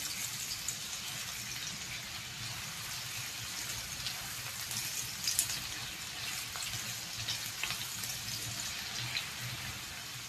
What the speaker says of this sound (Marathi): आपल्याला कांद्याला खूप जास्त परतायचंय ब्राऊन कलरवर.